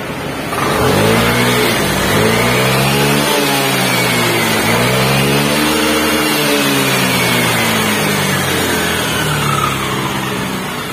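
A Vespa Matic scooter engine revs hard and steadily for about ten seconds, rising and falling in pitch as the throttle is worked, loud and close with no talking; the scooter has a faulty original rectifier, with high RPM and warning lights.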